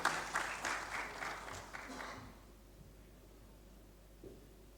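An audience at a financial-market bond listing ceremony on the BRVM claps in a short burst that fades out after about two seconds, leaving a quiet room with faint rustling.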